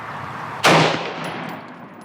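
A single loud, close gunshot from a Ruger AR556 AR-15 rifle at an outdoor range, with a sharp crack and a decaying echo that rings out over steady background noise.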